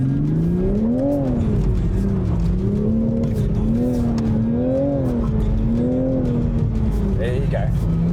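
A Toyota race car at a Toyota Gazoo Racing Australia scholarship evaluation day accelerates on a track, its engine droning steadily and rising and falling in pitch, while a coach speaks over a radio.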